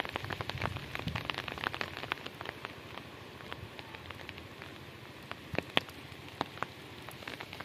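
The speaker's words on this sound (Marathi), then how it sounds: "डोंगरातून पाऊस येतं." Steady monsoon rain sweeps down from the mountains under a darkened sky, a continuous hiss dotted with sharp, close raindrop ticks and splashes.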